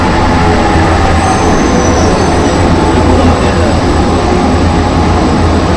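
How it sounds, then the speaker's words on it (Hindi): The Dubai airport metro train runs at speed, a loud, steady roar of wheels and motor rumble filling the carriage without a break. "देखिए क्या स्पीड से वो कैसे मेट्रो चलती है"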